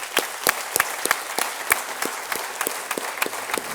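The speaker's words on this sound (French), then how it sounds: "accorder une bonne main d'applaudissements" Applause at a graduation ceremony for the parents of the graduates, a moderate crowd clapping steadily with sharp individual claps standing out, continuous and fairly close with no talk.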